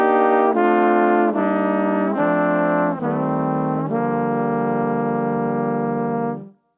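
A big band trombone section plays a sustained, harmonized brass line that moves through non-chord tones in several stepwise chord changes, then holds a final chord and cuts off.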